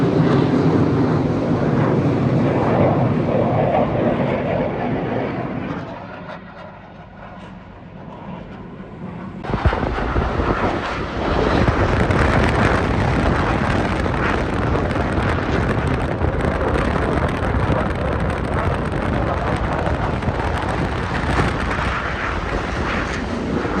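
A military jet passes low over a Virginia Beach neighborhood, a loud sustained roar that dips briefly midway, then surges back and holds at full strength to the end.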